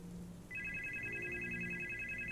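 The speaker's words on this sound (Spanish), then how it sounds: "en ese momento sonó mi teléfono" A telephone rings with a steady, high electronic warble that starts abruptly and carries on alone at moderate volume.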